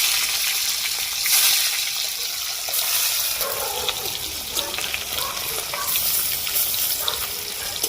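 Food frying in mustard oil in a wok, a continuous loud sizzle with bursts of spattering and stirring throughout, no voices over it.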